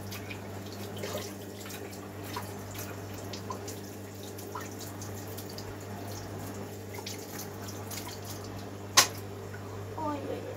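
Tap water running in a steady, moderate stream, close by, with some drips and splashes and one brief sharp knock near the end, over a low background hum.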